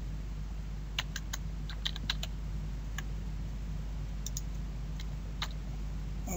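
Computer keyboard typing a CAD shortcut, sparse individual key clicks scattered over a faint steady hum, with a few quick pairs of presses.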